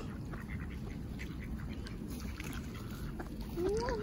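Wild ducks quacking near water on a snowy day after a snowstorm, soft scattered calls over a steady low background hum, with a louder call at the end.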